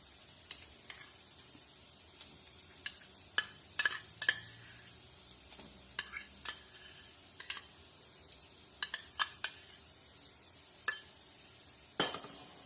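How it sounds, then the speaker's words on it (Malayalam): Ginger, green chilli and garlic paste frying with softened onions in a pan, a quiet sizzle under repeated clinks and scrapes of a spoon stirring against the vessel, fairly close, with no talking. "ഇനി പേസ്റ്റിൻ്റെ പച്ചച്ചുവ മാറുന്ന പോലെ നല്ലപോലെ ഇളക്കി തരാം"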